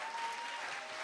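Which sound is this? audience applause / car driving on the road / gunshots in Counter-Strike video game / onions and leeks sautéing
audience applause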